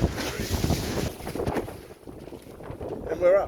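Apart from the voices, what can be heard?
wind while wind winging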